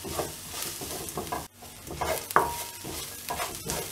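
Ginger, garlic and green chillies sautéing in a pan for potato masala, a steady sizzle broken by repeated scraping stirs of a spatula, one sharp clink near the middle, close and moderately loud with no talking.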